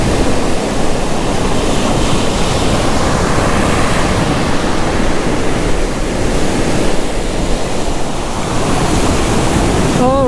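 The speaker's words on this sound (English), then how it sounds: "You could actually hear the waves out there." Rough ocean surf breaks on a beach in a loud, continuous roar of crashing water, with wind buffeting the microphone throughout.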